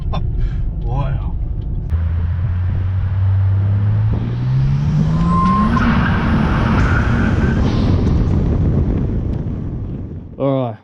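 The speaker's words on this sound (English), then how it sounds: "that Falcon's an experience. Yep. Gets to 100 pretty quick." A Ford Falcon accelerates hard, its engine roaring loud and close as the pitch climbs steadily, then the tyres skid with a broad, sustained scrub, and wind buffets the microphone throughout.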